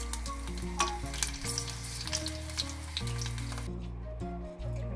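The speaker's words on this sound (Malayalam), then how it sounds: "ഇനി ഒരു 3 വെളുത്തുള്ളി എടുത്ത് വെച്ചിട്ടുണ്ടായിരുന്നു ചതച്ചത്, അതൊന്നും ഇതിലിട്ടിട്ട് ഫ്രൈ ചെയ്തിട്ട് മാറ്റി വയ്ക്കാം." Crushed garlic fries in hot oil for a Kerala-style mixture snack, giving a steady, close sizzle with crackling pops throughout, while a low hum runs underneath.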